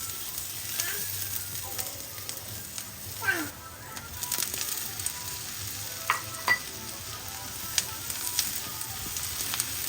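Garlic and onion sautéing in a pan as the base for a Filipino sopas, a soft, steady sizzle with occasional stirring scrapes and clinks, while a person talks faintly in the background.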